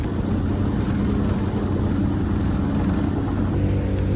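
An outboard motor on a boat at Lake Powell runs slowly and fails to power up, producing a steady, loud, close engine drone with even low rumble and no speech.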